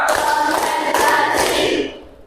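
Group clapping from a class of students in a quick rhythmic pattern, a handful of loud close claps that decay into a fading room echo.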